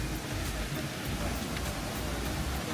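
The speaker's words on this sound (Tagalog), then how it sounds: "And sobrang lakas ng ulan." Heavy rain pours down at the bridge leading to Shifen Waterfall in Taiwan, a dense, steady hiss with no breaks across the whole stretch.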